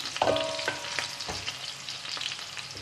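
Crackling sizzle of onions frying in hot oil left from frying meat, with a few clinks of a utensil stirring, close up and with no talking.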